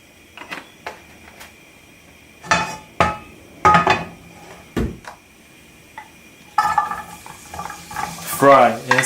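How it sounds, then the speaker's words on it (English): Burdock root strips stirred in a frying pan, with sharp, irregular scrapes and knocks of a utensil against the pan, and a louder sizzling, clattering stretch toward the end. "Fry and stir them."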